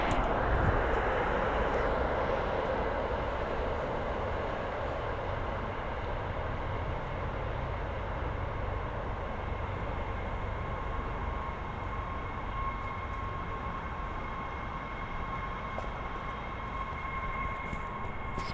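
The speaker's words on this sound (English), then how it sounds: "we have another train coming. Very slowly." An MBTA commuter rail train rolls slowly into Quincy Center station with a steady, loud rumble and drone, plus a faint high whine, sustained throughout with no talk.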